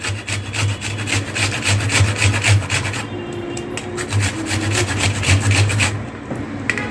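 Fresh ginger is rubbed against a kitchen grater, a close, loud rasping scrape in rapid repeated strokes with a brief pause midway, no talk.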